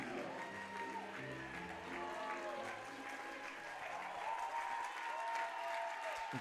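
A crowd applauds and cheers at a professional ballroom dance competition, the Fred Astaire Dance Studios Arizona Grand Championships, sustained clapping under lingering music tones and faint voices.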